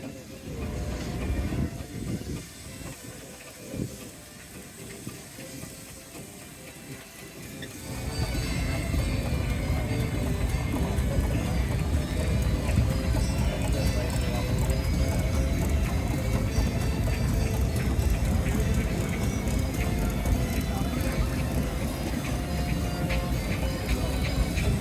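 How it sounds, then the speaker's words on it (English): A Leyland Porter Showman's steam traction engine passes at a steam rally in Lincoln. Quieter sound with faint voices comes first, then a loud, steady mechanical rumble with clanking and ratcheting holds close by through the rest. "The Leyland Porter Showman's engine there, number 13 in your programmes"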